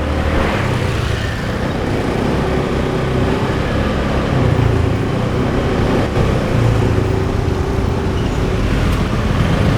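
Steady, loud road traffic during a motorbike ride in Bali, with cars, buses and engines rumbling continuously close by, no talk over it.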